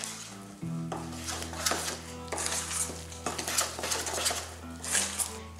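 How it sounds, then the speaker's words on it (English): A steady sizzle of batter poured into hot browned butter in a skillet, with clinks of a pan and utensils over it, close by. "And you can hear that sizzle."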